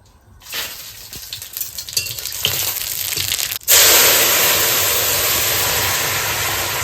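Cumin seeds and bay leaves go into hot oil, first with scattered crackles and pops, then a sudden loud sizzling hiss that slowly fades but keeps going.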